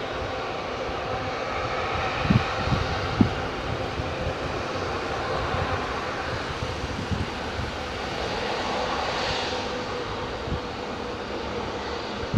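A Qatar Airways A350 jet at Heathrow Airport gives off a steady broad engine roar that stays fairly even throughout, with no one speaking.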